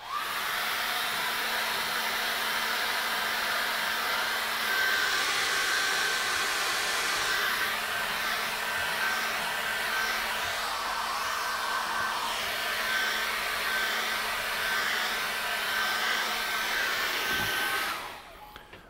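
A hair dryer blows steadily on a fresh acrylic painting of a lily pond, a loud continuous whooshing roar that holds for about seventeen seconds before cutting off abruptly near the end.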